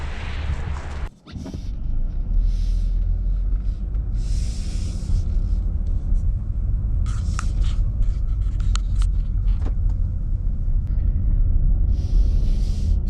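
A 2021 Nissan Rogue SL Premium AWD driving on a road gives a steady, low rumble of road and engine noise from inside the cabin. It runs continuously and evenly throughout, with a brief dip near the start.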